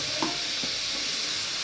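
Tomatoes go into a frying pan with a steady, fairly loud sizzling hiss and a couple of soft stirring clicks, no talking.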